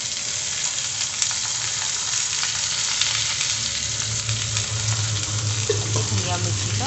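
Pointed gourd (parwal) fries in a pan with a dense, even sizzle, loud and close, joined by faint stirring scrapes toward the end.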